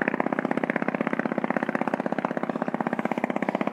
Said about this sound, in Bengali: ট্রলার যাচ্ছে